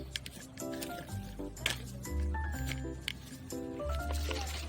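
A neem oil and water mixture sloshes and squishes as it is shaken in a closed pump sprayer, with rhythmic liquid splashes and muffled knocks close by.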